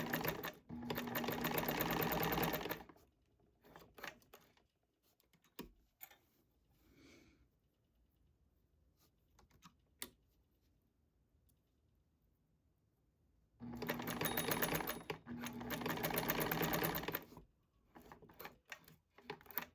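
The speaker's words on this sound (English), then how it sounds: "You will be sewing them down now in the top stitch." A sewing machine top-stitches elastic on a bralette in two sustained runs of steady whirring, close and fairly quiet, separated by a pause with small handling clicks and rustles.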